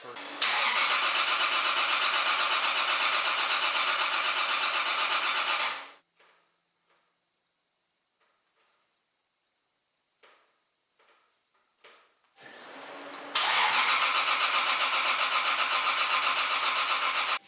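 The starter spins over the turbocharged engine of a Toyota Supra in two long, loud, close cranking bursts. A quiet pause with faint clicks separates them.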